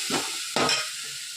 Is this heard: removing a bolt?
no